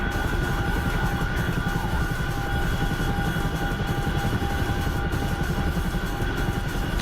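Chinook helicopter in a flight simulator game, a steady, loud rotor and engine drone with a constant whine that holds evenly throughout, alone with no talk.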